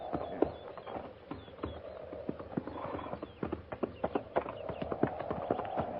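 Horses walking with hooves clip-clopping in an uneven, steady rhythm over a low background rumble, fairly close by.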